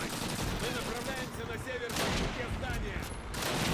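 Rifle gunfire in the Call of Duty: United Offensive video game, a loud dense battle with repeated shots and bursts layered over constant combat noise, with someone talking over it.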